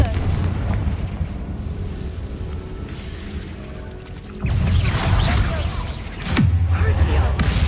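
A Confringo blasting spell from Hogwarts Legacy goes off in loud bursts, with a heavy boom near the middle and another sharp crash toward the end, over constant low game rumble.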